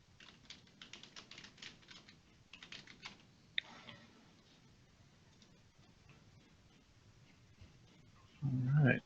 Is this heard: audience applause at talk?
no